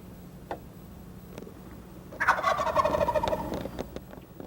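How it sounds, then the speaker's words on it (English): A wild tom turkey gobbles once, a loud rattling burst rising out of a quiet outdoor background that has a few faint ticks before it, with no talk. "The gobble of a wild turkey is exciting by itself"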